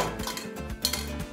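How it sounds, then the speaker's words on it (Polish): A metal cooking pot and sieve are handled while pureeing gazpacho, producing a few light clinks and scraping metallic knocks at close range, irregular and brief, with no speech. "Weźmiemy tutaj garnek z sitkiem,"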